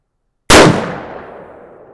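One sharp, loud shot from a Pietta ACE revolver firing .45 Colt black powder loads, a sudden blast that decays into a long fading boom.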